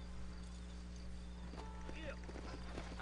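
Horse hooves clip-clop in the Red Dead Redemption video game, a run of rhythmic hoofbeats at moderate distance that builds in the second half over a low steady hum, with someone talking over them.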